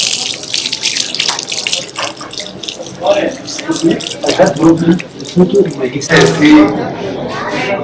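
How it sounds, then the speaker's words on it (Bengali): A water tap runs in a restaurant washroom area in Cairo, a splashing, uneven stream heard close by while voices talk over it. "এখন হাত ধোয়ার জন্য যাচ্ছি"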